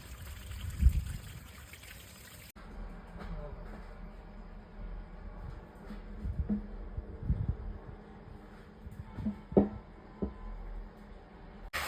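Dirty water draining under full pressure out of the bottom of a water tank during cleaning, a steady close trickle and splash with intermittent thumps and handling knocks.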